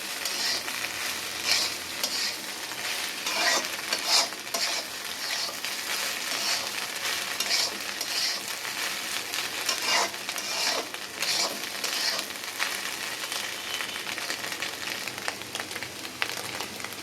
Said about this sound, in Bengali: এখন আমি আবার একসাথে নেড়ে নেব, ভাজা ভাজা করে নেব।